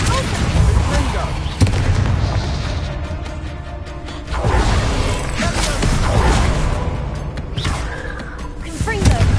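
Confringo explosive spells blast repeatedly in a Harry Potter video game, loud booming explosions and crackling impacts in dense succession over a continuous battle rumble.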